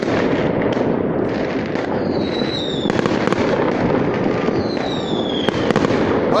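New Year fireworks salute over Kislovodsk, a continuous dense crackle of bursts and pops with a few rising whistles, loud and sustained with no pause.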